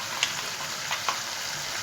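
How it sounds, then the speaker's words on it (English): Chopped onions and chili pepper fry in a saucepan with a steady, close sizzle and a few soft clinks of stirring. "we put our chopped onions and chili pepper into the saucepan"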